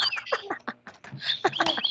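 Toy bird playing electronic chirps and warbling tweets, close and fairly loud, in quick bursts with brief gaps.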